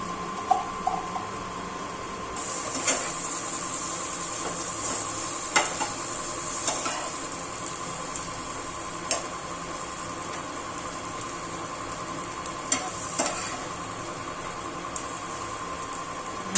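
Masala pav sizzling in ghee in a pan, a constant soft frying hiss broken by occasional sharp scrapes and taps of a spatula, close up with no talking.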